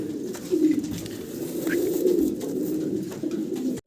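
Young, large pigeons kept as a breeding pair coo repeatedly up close, a steady series of low, rolling calls with brief rustles and no speech.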